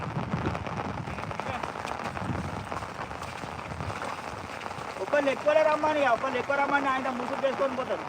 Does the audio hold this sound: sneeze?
no